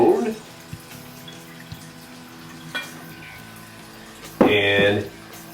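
A drink being poured into a martini glass, with a short liquid splash near the end after a quiet stretch, with clinks and faint room noise before it.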